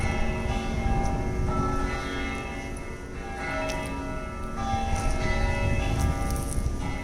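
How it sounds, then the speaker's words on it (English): Bells ring at night in Salem, their sustained metallic tones layered over a dense, steady street din with faint scattered clinks. "if you could hear the bells ringing."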